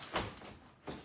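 A house door opening or closing with two soft knocking bumps a moment apart, fairly quiet and close.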